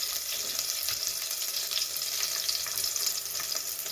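Two dried red chillies, a head of crushed garlic and curry leaves frying in hot oil for rasam, a steady close crackling sizzle with light stirring, no voices.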